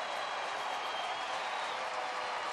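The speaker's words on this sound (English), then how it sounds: "Now the crowd on their feet." Baseball stadium crowd at a Reds–Rangers game in Texas cheering and applauding as fans rise, a steady, dense roar of claps and voices sustained throughout without a break.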